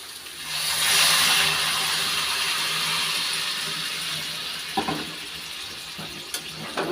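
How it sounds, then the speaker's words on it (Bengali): Hot water splashes into a cooking pot holding grated potato and paneer, a continuous rushing pour that swells early and then eases, followed by a few clinks and knocks at the end. "এখন দিয়ে দিচ্ছি গরম জল।"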